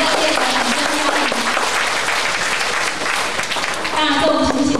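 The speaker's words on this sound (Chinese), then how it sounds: "大家热烈的掌声欢迎" An audience claps warmly and continuously to welcome a lecturer at an educational gathering, a dense, loud spread of applause lasting throughout with a slight swell near the end.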